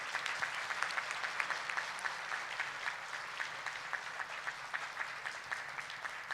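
Sustained audience applause at an international congress on electoral justice in Santo Domingo, a fairly quiet but even patter of many hands heard from some distance, with no talking over it.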